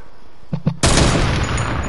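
Gunfire in the battle game Fortnite: two short muffled cracks, then one loud broadband blast that rings and roars for over a second, close and overwhelming, with no talk.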